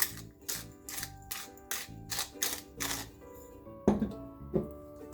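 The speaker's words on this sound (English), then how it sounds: "I am going to grind some black pepper" Black pepper being ground by hand for gyoza filling, a series of regular close grinding bursts with short pauses between them, followed by a couple of sharper knocks, quiet and with no talking.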